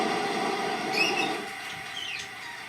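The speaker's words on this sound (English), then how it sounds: "That's the sound of sand being blown about by the wind." Minecraft rain sound pitched up to double speed and played quieter to suggest sand blown by wind for a sandstorm creature in Minecraft 1.8: a continuous thin, airy hiss with a few faint chirpy squeaks, fading slightly toward the end.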